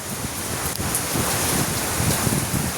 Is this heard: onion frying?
no